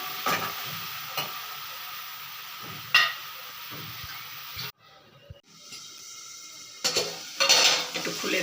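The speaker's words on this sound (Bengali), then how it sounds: "এবার ঢাকা দিয়ে দেবো।" A lid clanks onto a pot holding bottle gourd curry, with a sharp metallic knock near 3 s and another around 7 s, over a steady background sizzle and kitchen clatter.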